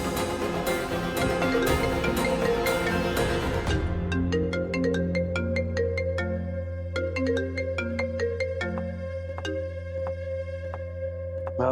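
A phone ringtone plays a repeating electronic melody, loud and close, with a denser burst at the start followed by clear tonal notes that continue alone.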